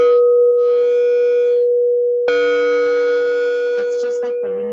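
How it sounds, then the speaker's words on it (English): A singing bowl rings with a steady sustained tone, struck again partway through to swell into a louder, richer ring with shimmering overtones before fading slightly at the end. "When I do the singing bowls"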